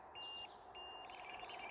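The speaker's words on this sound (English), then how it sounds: "A faster beep" A digital level indicator emits a series of rapid electronic beeps, high and thin, faint but clear, with a few longer tones before the quicker pattern.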